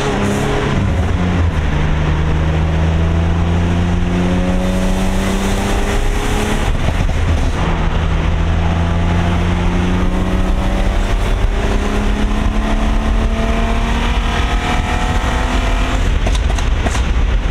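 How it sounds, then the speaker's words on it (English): A Nissan Altima SE-R fitted with a new intake manifold pulls hard through fourth gear, its engine note climbing steadily in pitch over a long, loud, continuous acceleration with no talking. "Fourth gear pull, nice."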